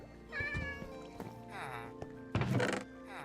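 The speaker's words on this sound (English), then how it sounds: "Oh, there's a cat in here." A cat meows in the Minecraft video game, several short, clear tonal cries close by and fairly loud over a steady game background, with a thud near the end.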